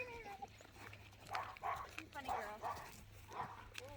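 Two dogs, one of them a large imported female, give short yips and barks in a quick run of bursts. People talk around and between the barks.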